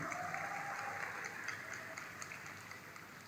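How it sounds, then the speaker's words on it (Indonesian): An audience of new students claps during the rector's speech at UNISSULA university's orientation week, a faint, distant patter of applause that stays even throughout. "Tepuk tangan Unisula yang bermutu ya."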